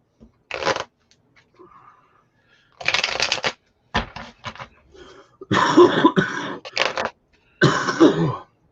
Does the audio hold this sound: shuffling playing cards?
yes